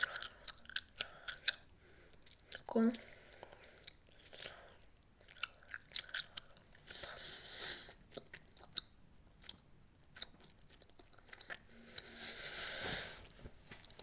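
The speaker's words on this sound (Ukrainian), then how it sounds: "Жую, жую." Gum chewed close to the mouth makes soft wet clicks, crunches and smacks in an irregular rhythm, with occasional breaths and sniffs, quiet and intimate with no talking.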